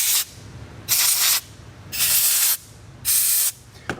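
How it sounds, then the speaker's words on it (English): Three sharp bursts of parts cleaner sprayed onto the fuel injectors of a 2014 Toyota RAV4, each a loud, close hiss lasting about half a second, separated by short quiet pauses and ending with a faint click. "I'm going to spray these off real quick with some parts cleaner"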